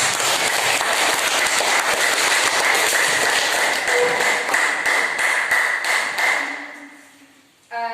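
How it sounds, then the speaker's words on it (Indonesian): A classroom of students applauds a presenting group in a mathematics lesson, a steady dense wash of clapping that holds for several seconds, then thins and fades out near the end. "Tepuk tangan untuk kelompok 4"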